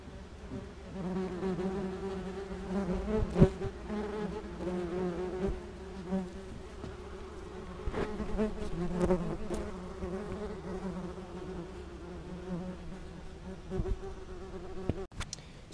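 Yellowjackets buzz steadily around a nest inside a wine barrel, a close, dense drone of many wings that swells and fades as individual wasps pass nearby, with occasional knocks and handling sounds.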